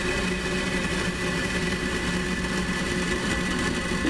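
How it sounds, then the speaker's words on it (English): A Falcon 9 rocket lifts off on the USSF-62 mission with a dense, continuous roar of its engines, loud and unbroken throughout. "And a liftoff of Falcon 9, go USSF-62"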